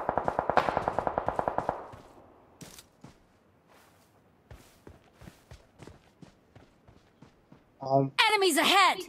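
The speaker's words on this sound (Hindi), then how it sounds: "enemies ahead this guy is firing on" Gunfire in the mobile battle royale game PUBG Mobile: a rapid automatic burst up front, then a long run of evenly spaced single shots or steps, ending in a louder effect blast.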